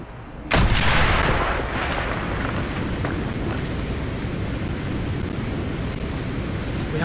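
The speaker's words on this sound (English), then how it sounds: "Mason, blow a hole in that fucking wall." A single heavy explosion blasts a hole through a wall in Call of Duty Black Ops, bursting in sharply and loudly, then settling into a long rumbling roar of debris and battle ambience that lasts for several seconds.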